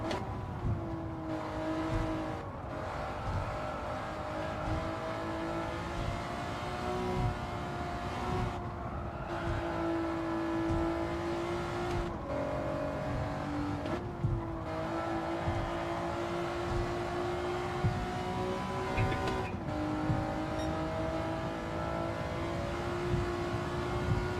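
A race car engine in a sim racing formula car drones at high revs, a continuous buzzing tone that rises and dips with brief drops during gear changes or braking, steady and moderately loud.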